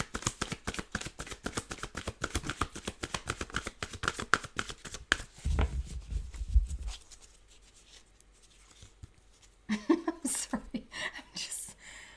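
Rapid papery riffling of cards being shuffled, close and fairly loud in bursts, followed by a brief low thump, a quiet pause, then more handling.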